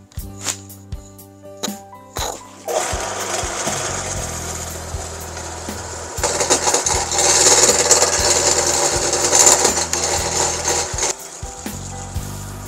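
Rasping and rubbing on a dry, heavy mango wood log being smoothed into a rounded rolling pin, a sustained scraping texture broken by brief taps and knocks, close and fairly loud with no talking.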